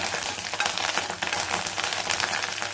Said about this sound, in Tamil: எண்ணெய் சூடானதும் ஒரு மூணு வரமிளகாயை கிள்ளி போட்டிருக்கேன்